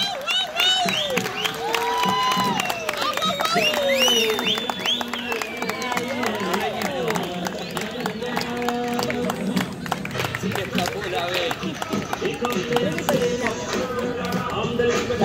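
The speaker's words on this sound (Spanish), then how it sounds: "por favor, un aplauso" Applause and scattered cheering from a crowd at a parade festival, moderately distant, mixed with an announcer talking and busy crowd chatter throughout.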